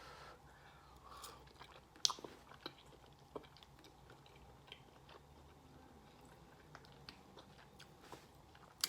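Someone chews and eats sausage and chicken gumbo with soft, faint, close mouth sounds and occasional small crunchy bites, alone without talking.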